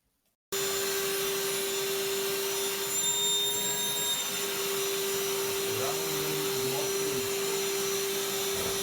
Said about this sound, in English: drilling through the hard porcelain tile